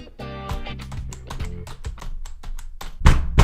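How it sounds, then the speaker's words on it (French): Rapid, close clicks and taps on a computer keyboard come in uneven bursts, with a heavier thump near the end. "va falloir arrêter de taper ses coups sur le clavier un peu là"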